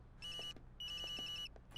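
Telephone ringing indoors: two electronic trilling rings separated by a short pause, moderately loud and clear, ending with a sudden louder noise, no speech.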